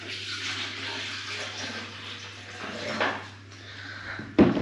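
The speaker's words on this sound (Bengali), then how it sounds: "তো প্রথমে জলটা দিয়ে দিলাম" Water poured into a kettle or pot to be heated for coffee, a steady close splashing stream under a low hum, ending in a brief clatter of a vessel.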